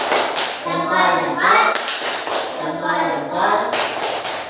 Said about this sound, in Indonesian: kita berikan tepuk hebat. Ayo berdiri semuanya. Tepuk hebat.